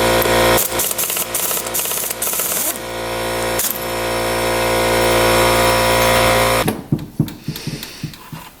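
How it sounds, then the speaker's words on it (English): A vacuum cleans off a UTV engine that sits on a workbench. It starts abruptly as a loud, steady roaring whine, runs about six seconds, then cuts off into a few sharp clanks. "We'll vacuum this off quick."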